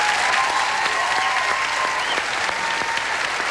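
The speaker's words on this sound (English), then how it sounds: "Tonight, would you please applaud Les Taylor." An audience applauds Les Taylor at a televised country and bluegrass show, a dense, steady wash of clapping with no talk over it.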